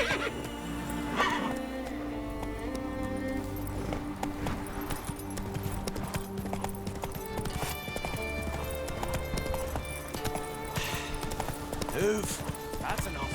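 Roach, a horse in The Witcher 3: Wild Hunt, clip-clops steadily with repeated hoofbeats and neighs, under game music and character voices talking.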